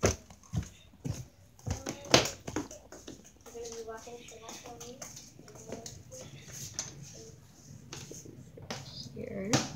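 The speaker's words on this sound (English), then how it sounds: "So guys, here's my dog." A dog whimpers and whines indoors in a bedroom, with soft, broken cries and shuffling around it while a person talks throughout.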